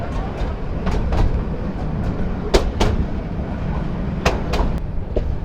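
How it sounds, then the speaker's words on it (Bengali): A train pulls into Laksham junction in Bangladesh, a steady loud rumble of rolling stock broken by sharp repeated clanks and knocks from the wheels and couplings, with no clear voices on top. "আমাদের ট্রেন লাকসাম জংশনে ঢুকতেছে"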